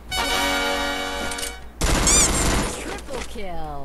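Gunfire from an enemy at close range in a shooter video game, a loud rapid burst that breaks in over a steady tonal game sound, followed by someone speaking excitedly.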